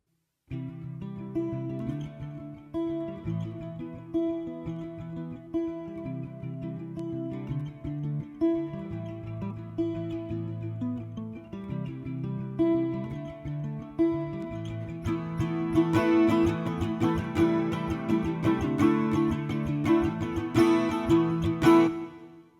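Guitar strumming a pre-chorus chord progression in a steady progression, with fuller, brighter strumming building toward the end; no voices.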